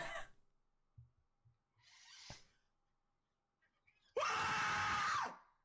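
A loud, sustained scream bursts in near the end and holds for about a second, after a few quieter bursts and clicks, during a Fortnite stream.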